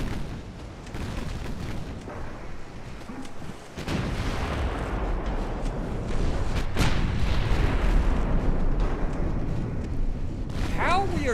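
Naval gunfire from a light cruiser firing HE shells in Ultimate Admiral Dreadnoughts, with heavy booms and a rumbling, continuous battle din building over several seconds, sharp reports scattered throughout, and talk over it.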